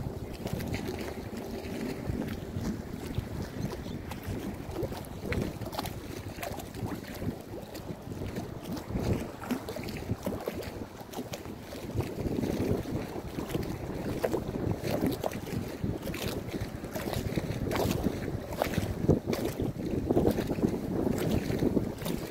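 Wind buffeting a small fishing boat at sea, a continuous rough rumble of gusts hitting the microphone with sloshing water and occasional knocks, steady and fairly loud with no voices.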